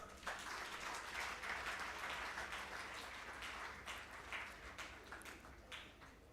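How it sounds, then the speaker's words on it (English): An audience at a national HIV and AIDS symposium gives a pastor a big round of clapping, a sustained patter of many hands that thins toward the close. "Another big clap."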